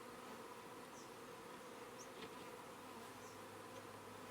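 Honey bees buzzing at a hive entrance partly blocked by a stick, a steady, even drone of many insects with faint individual passes of bees flying close by.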